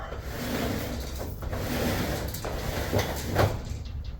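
A metal roller door with improperly tightened springs rattles and rumbles as it is pushed upward, with a few clanks and scrapes along the way.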